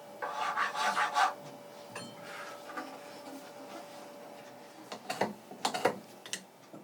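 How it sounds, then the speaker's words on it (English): A hand file shapes a violin nut at a violin-building workbench. It makes a quick run of close, dry rasping strokes, then falls quiet, and later a second cluster of short scraping strokes follows. "He has filed the nut so skillfully that it almost appears to be polished already."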